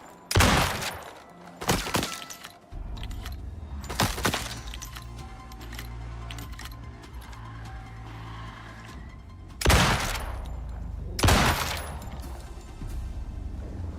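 Bursts of video-game gunfire hit a turret in the survival game Icarus, with loud cracking volleys near the start, around four seconds and again near ten and eleven seconds, over a steady low rumbling hum.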